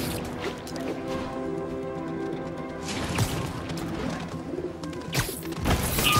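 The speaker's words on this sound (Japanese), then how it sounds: "ハトって実は結構頭いいんだから。" Pigeons cooing in the video game Marvel's Spider-Man, repeated soft low coos over a musical game background, with a few sharp crashing hits and bursts of noise.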